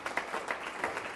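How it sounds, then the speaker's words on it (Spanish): A church congregation applauding during a worship service, a short burst of dense clapping from many hands, moderately loud and steady throughout. "Denle un aplauso al Señor"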